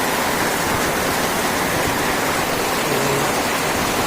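Heavy night rain pours down in front of a house where water has pooled, a dense, steady hiss filling the whole clip close by, with no voices.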